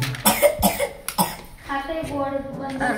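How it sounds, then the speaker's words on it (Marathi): Several sharp coughs burst out in quick succession close by, followed by a voice talking. "लयच खोकला यायला"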